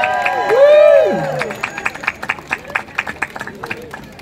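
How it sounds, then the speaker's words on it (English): A crowd at a St Patrick's Day parade in New York cheers for Mick Maloney: loud whoops and yells swell for about a second, then give way to scattered, steady clapping and fading cheers. "Send a cheer to Mick Maloney"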